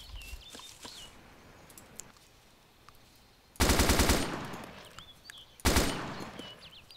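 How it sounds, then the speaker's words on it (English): Two loud bursts of automatic gunfire in a multiplayer shooter game, each a dense rapid rattle lasting about a second, over a quiet outdoor ambience with faint bird chirps and clicks. "I hear the gunshots."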